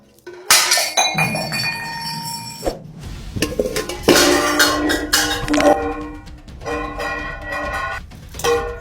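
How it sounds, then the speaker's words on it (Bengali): A drinking glass of water is set down on a table at home, giving several sharp, ringing glass clinks and knocks in bursts, loud and close, with no voices. "এই নাও পানি খাও। টেবিলের উপর রাখো।"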